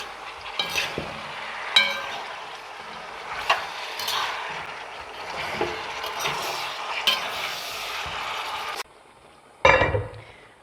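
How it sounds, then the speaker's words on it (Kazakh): Mutton kuyrdak fries slowly in a pan on an electric hotplate with a continuous sizzle, broken by occasional metallic stirring clinks and scrapes, close up with no voices. "қуырдағымыз жайлап қуырылып жатыр"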